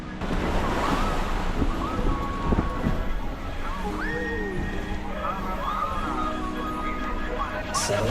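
Caribbean waves wash and surge around a small sailboat in lively conditions, with steady wind roar buffeting the microphone and voices calling out over the churning water.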